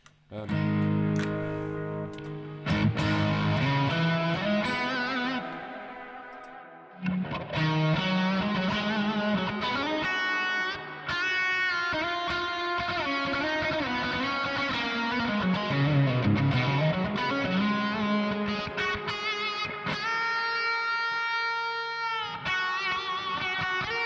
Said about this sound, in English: My favourite distortion pedal. The one I always come back to for every recording I ever do is the Thunderclaw